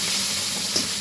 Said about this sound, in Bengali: পাবদা মাছ তো ভীষণ ফুটতে থাকে, খুব আওয়াজ হয়, আর তেল ফুটে সারা গায়ে লেগে যায়।